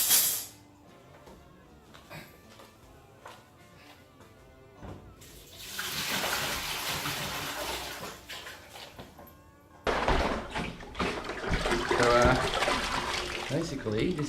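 No-rinse sanitizer liquid is emptied out of a plastic homebrew fermenter in two long, rushing bursts of pouring and splashing, steady and fairly loud, with a quieter trickle before them.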